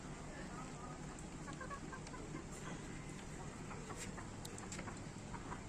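Laying hens cluck softly and intermittently on a rooftop on a rainy evening, somewhat distant, over a steady background hiss with faint voices.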